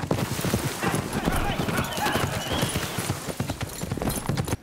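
Horse hooves clop in a steady rhythm at close range in a scene from the TV series Yellowstone, sounding continuously beneath talk that runs throughout.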